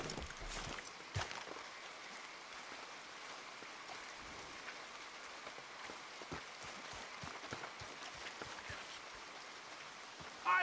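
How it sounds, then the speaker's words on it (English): Steady rain pours down in the Red Dead Redemption 2 game world, a dense, even hiss of drops on surfaces that carries through the whole stretch with no talk over it. "Come on, it's raining."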